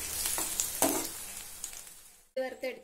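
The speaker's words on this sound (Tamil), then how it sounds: "நல்ல நெய்யில பொரியட்டும்." Cashews and raisins fry in ghee, a dense, close crackling sizzle with a few sharper pops that fades near the end, followed by a short stretch of someone talking.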